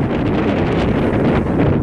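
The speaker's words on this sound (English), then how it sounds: "It's a little bit windy right now." Steady wind buffeting an outdoor microphone with a continuous low roar at a scenic San Francisco overlook near Golden Gate Park on a clear day, with no talking.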